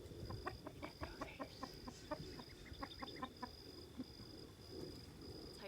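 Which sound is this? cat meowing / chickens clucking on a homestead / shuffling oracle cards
chickens clucking on a homestead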